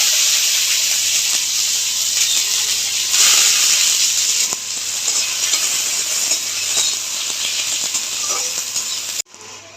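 Chopped onion and nigella seeds, with a dried red chilli, hitting hot oil in a pan: a steady, loud, close sizzle and hiss lasting throughout, with faint stirring clatter, ending abruptly.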